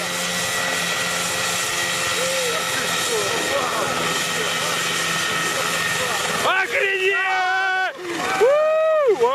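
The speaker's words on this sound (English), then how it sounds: "These guys in Ukraine built their own helicopter and it actually worked." A home-built helicopter from Ukraine flies past with a steady, loud engine and rotor roar, then the sound drops and shifts into wavering, rising and falling engine whine near the end.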